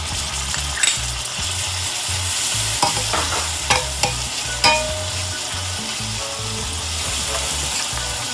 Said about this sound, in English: Next, I'm going to add our green seasoning mix.